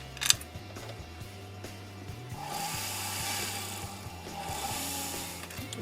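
A hand tool trims 18 karat gold jewelry during a repair: a sharp transient near the start, then a steady close-up scraping, rasping texture that swells and eases across the span, with no talking.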